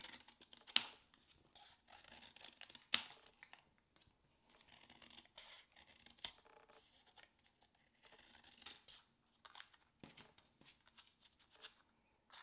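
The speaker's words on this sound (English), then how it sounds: "grab green cardstock paper" Scissors freehand cutting leaf shapes from green cardstock paper, giving a scattered run of crisp snips and short papery scrapes, with a few sharper clips standing out and quiet pauses between cuts.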